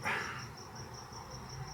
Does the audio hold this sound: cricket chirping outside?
yes